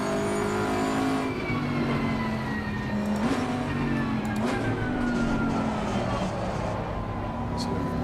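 A Bentley GTC in the racing game Assetto Corsa accelerates around the Hungaroring, its engine note climbing steadily in pitch with a loud, continuous drone and a brief dip partway through, as though between gears.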